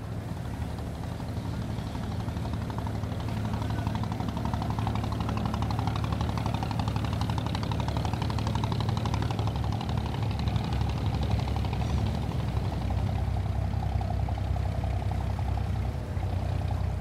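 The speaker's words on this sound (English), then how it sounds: "dozens and dozens of abras, small wooden taxi boats, bob along like tiny insects at the foot of the buildings lining the shores of the creek." Engines of dozens of small wooden abra taxi boats on Dubai Creek give a steady low drone and rumble, continuous and fairly close throughout, with a faint watery wash.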